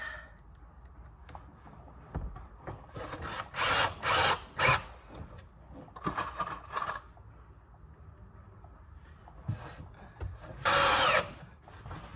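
A power drill drives screws into a wooden bed platform built inside an SUV, several short whirring bursts separated by pauses and small clicks, close by with no talk.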